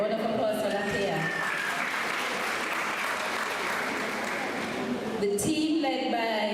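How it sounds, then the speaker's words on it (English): Applause from a primary and infant school graduation audience fills the whole stretch as a steady, dense clatter of many hands, easing briefly near the end as a voice starts to come through. "A round of applause for Lakea."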